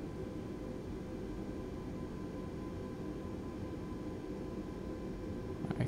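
A British Airways A320neo airliner begins its takeoff from Manchester in Microsoft Flight Simulator, giving a steady, faint engine roar and rumble that holds constant throughout without any voices.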